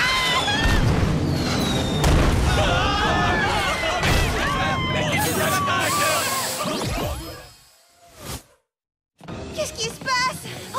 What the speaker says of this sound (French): en plein milieu d'une attaque à risquer ma vie face à des boulets de canon